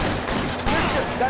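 Dense gunfire rattles in a shootout in the video game L.A. Noire, a steady, loud burst of overlapping shots with a voice shouting over it.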